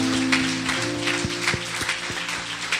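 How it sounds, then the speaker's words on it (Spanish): A church congregation gives strong applause during a sermon. A steady grainy patter of clapping runs throughout, layered over sustained tonal music and soft rhythmic thumps. "¿Cuántos le dan un fuerte aplauso al Señor?"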